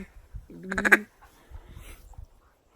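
A duck call imitates the mallard's flight chuckle: a short, quick run of soft, clucking quacks near the call. Quiet breathing and room noise come before and after.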